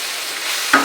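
Tomato masala frying in a pan for chicken masala, a steady loud sizzle with a brief stirring scrape near the end, close up and with no voices.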